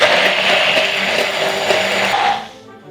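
A blender whirs loudly and steadily, emulsifying a sauce with vegetable oil added to mixed ingredients, then cuts off and winds down to silence near the end.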